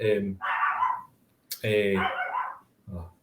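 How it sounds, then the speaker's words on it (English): Dogs bark inside a home as the front door opens, a few loud, close barks arriving in separate bursts with short pauses between them. "Somebody opened the front door and the dogs are barking."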